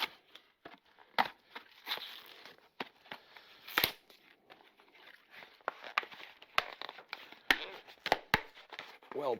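Beer packaging for a zero-alcohol beer is torn open and crinkled by hand, giving faint, irregular crackles and sharp tearing snaps up close with quiet pauses between them.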